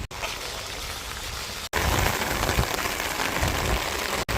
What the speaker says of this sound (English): Rain's got heavier again.